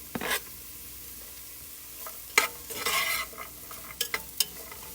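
Carrot and other vegetables sautéing in a soup pot, a low sizzle broken by several scraping stirs of a utensil, close and moderately quiet with no speech.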